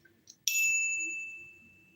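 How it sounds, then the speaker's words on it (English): A small bell on a mountain bike gives a single bright ding after a faint tap, then rings on and slowly fades in a quiet room. "That's my little bike bell I put on my mountain bike sometimes."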